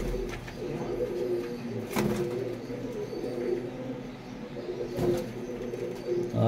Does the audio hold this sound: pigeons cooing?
yes